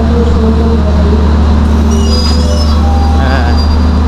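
A Jakatingkir train shifts its position at the station, wheels grinding and squealing over a loud steady rumble of engine and rail noise, close by and continuous.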